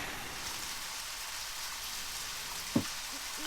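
Steady rain falling on a dark, foggy night, heard as a continuous hiss with one brief louder knock near the end, from the flashback scene of the video game Deadly Premonition.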